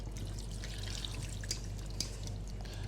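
Water pours steadily into a bowl of char siu pork marinade, a continuous close trickle with a couple of brief drips and splashes, no voices.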